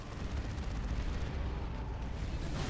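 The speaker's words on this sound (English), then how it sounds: "Manticore strike on the Land Raider's face." Manticore missile strike explosions in the strategy game Dawn of War 2: Retribution, a dense rumbling barrage of booms layered with battle noise, sustained and moderately loud throughout.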